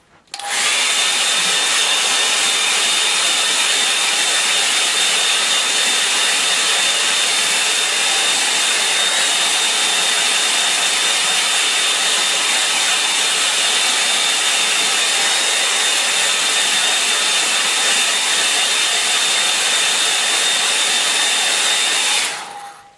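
Hair dryer blowing on a watercolour painting, a loud steady whooshing whine running continuously for over twenty seconds, switched on at the start and off at the end, no talking.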